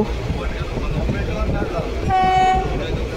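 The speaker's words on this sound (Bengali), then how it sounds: "সামনে দিয়ে আসছে ট্রেন নাম্বার 6102" A Lalgola–Ranaghat MEMU passenger local passes near Beldanga station, heard from aboard another moving train: a steady, heavy rail rumble with a brief horn blast about two-thirds through.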